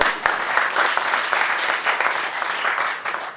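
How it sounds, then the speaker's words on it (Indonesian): A church congregation bursts into sustained applause during a sermon, loud and dense clapping filling the room evenly from start to finish, with no voice on top. "Tepuk tangan kemuliaan."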